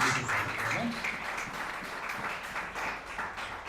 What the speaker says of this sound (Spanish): Gloria a Dios, un aplauso para nuestro Padre Dios